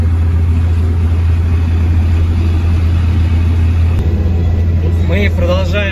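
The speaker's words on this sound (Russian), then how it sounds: "Мы продолжаем ехать на газели." A GAZelle van rolls along a road in Madagascar with a steady low engine drone and road rumble throughout, loud and close from inside the cab, with voices briefly audible near the end.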